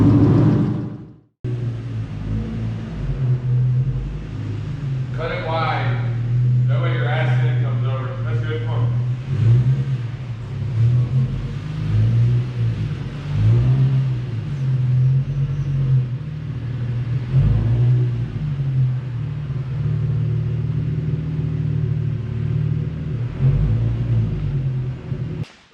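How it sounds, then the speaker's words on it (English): An old race car engine revs and idles unevenly, a steady low rumble swelling with throttle blips, close by, with voices talking over it throughout. "Trying to get old race cars started."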